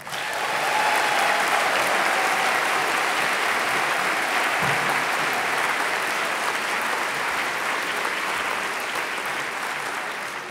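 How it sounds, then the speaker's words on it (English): A large audience at a climate rally in Kansas City applauds steadily for a green-building speaker, a loud, sustained wash of clapping that holds for about ten seconds and fades slightly at the end. "Please give a round of applause for Bob Berkebile."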